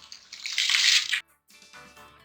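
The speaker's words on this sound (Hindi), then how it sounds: "इसके अंदर अब हम चावल डाल देंगे" Rice poured into a pot of boiling water while cooking chicken tikka pulao, giving a loud rushing splash and hiss that stops abruptly, followed by quieter bubbling.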